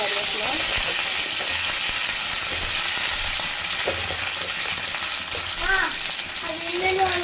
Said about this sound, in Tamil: கடுகு பொரியத்துக்குள்ளே நான் வெங்காயத்தை போட்டுருவேன்